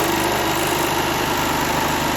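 A sewing machine stitches a neckband onto a raglan shirt, giving a steady, close, fast-pulsing motor hum with rapid needle ticks and no pauses.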